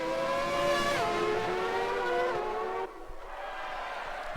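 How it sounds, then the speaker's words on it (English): A Ferrari and a McLaren racing on a track, their high engines whining past nearby with falling pitch as they go by, then the roar cuts away to quieter track noise. "Skins having a run on the Ferrari. T-Mac with the inside line."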